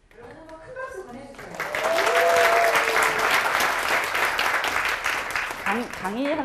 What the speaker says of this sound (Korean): 강의하면서 박수 받아보는 적 없는 것 같아요